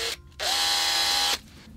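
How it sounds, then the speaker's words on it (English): An electric drill whirs for about a second while boring a pilot hole for a net curtain hook in a bay window frame, starting and stopping abruptly, close by. "Then grab your drill and drill the pilot holes."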